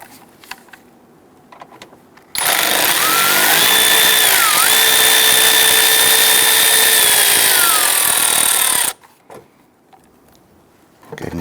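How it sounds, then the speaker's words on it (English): A power tool runs steadily for several seconds while removing a bolt from the coolant reservoir of a 2011-2021 Jeep Grand Cherokee, giving a loud continuous whine that shifts pitch as it works, with quieter handling noises before and after. "let's go ahead and remove the last bolt."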